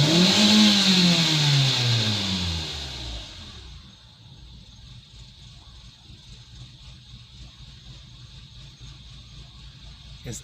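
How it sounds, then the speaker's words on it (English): A Hyundai Tucson engine revs down from a whine and settles into an uneven, lumpy idle with a rough, stuttering low rumble. "It's idling, but it sounds like it has I don't want to say a misfire"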